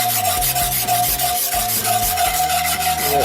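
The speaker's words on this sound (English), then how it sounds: "Go ahead and whisk that together, and that'll help kind of thicken it up." Whisk scraping briskly against a shallow pan while stirring spicy brown mustard into a sauce, a rapid rhythmic rubbing close up with no talk.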